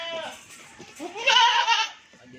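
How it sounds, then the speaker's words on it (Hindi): A Rajanpuri ablak-print goat bleats loudly and close at a livestock sale, one drawn-out wavering call rising and falling over about a second, with faint background voices. "ये नंबर 1 पे अब्लक प्रिंट बकरा रहा है माशाल्लाह"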